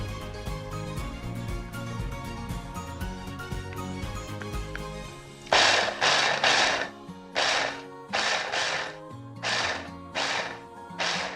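A blender pulses on walnuts to break them into chunks. It gives several short, loud bursts of grinding whir after a stretch of background music.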